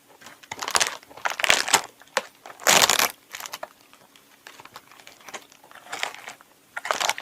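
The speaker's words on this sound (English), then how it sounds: "you still have the cookie crunch" Crunching of an Oreo Brookie-O cookie being bitten and chewed, a series of close, crisp crackling bursts with one louder crunch near the middle, and no talking.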